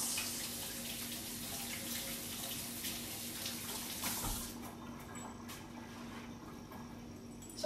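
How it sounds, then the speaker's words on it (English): Tap water runs steadily into a sink as hands are rinsed, a broad hiss that stops partway through, leaving faint drips and room noise. "All right, so rinse."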